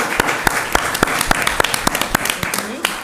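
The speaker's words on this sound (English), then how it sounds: "they deserve a big applause from everybody" Audience at a policy report launch event applauding, sparse individual claps with distinct sharp hits at an uneven rhythm over a room murmur.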